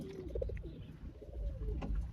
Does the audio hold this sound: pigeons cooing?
yes